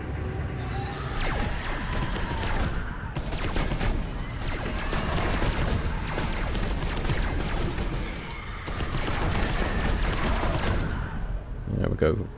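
A heavy overheating gun in the sci-fi shooter Space Hulk: Deathwing fires in dense, sustained bursts with mechanical clatter for the whole stretch, while someone talks over the gunfire.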